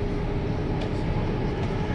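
Inside a moving train in the UK on a trip to London, a steady low rumble and rattle of the carriage fills the space continuously, close and fairly loud.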